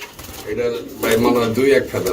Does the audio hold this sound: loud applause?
no